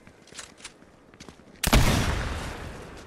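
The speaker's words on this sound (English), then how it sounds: "I got the sniper one. I'm gonna shoot some in the face with it" A single loud sniper rifle shot in a video game cracks out after a quiet stretch of faint clicks and steps, its boom trailing off in a long decaying echo.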